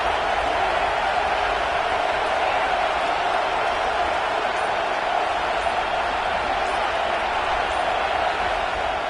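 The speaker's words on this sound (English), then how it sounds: "this crowd coming to life here, trying to help the defense get a stop with the offense pinned back." A stadium crowd in a college football video game, Georgia Tech hosting South Carolina, keeps up a steady, continuous roar of cheering at even loudness throughout.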